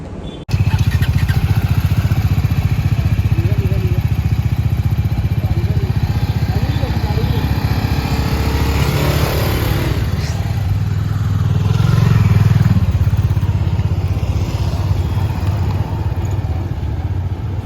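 A motorcycle riding along a road on a trip from Boisar to Konkan, its engine droning steadily and loudly throughout, with wind rush and a slight surge in engine sound partway through.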